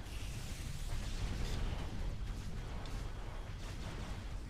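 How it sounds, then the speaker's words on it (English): Dense, continuous rumble of mech explosions and heavy bursts from the MechAssault video game in Team Destruction mode, a steady low roar with repeated booms layered throughout, loud and close. "It's just a bunch of explosions and spawn camping."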